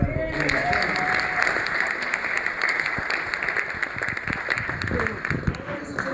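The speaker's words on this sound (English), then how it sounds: "Give him another round of applause." A hall audience at an entertainment awards ceremony claps in a sustained, dense round of applause with a few cheers, loud and close, fading slightly near the end.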